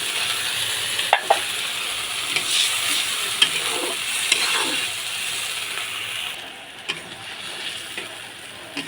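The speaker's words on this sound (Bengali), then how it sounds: "এখন পরিমাণ মতো জল দিয়ে দিব" Water pours into a pan of well-fried, sizzling spices for a fish curry, setting off a steady loud hiss and bubbling with a few sharp crackles and scrapes, and no voices.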